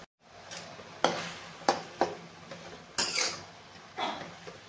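Fenugreek greens with garlic cooking uncovered in a pan, with a soft sizzle and several sharp scrapes and knocks of a spoon against the pan, close and fairly quiet, with no voices.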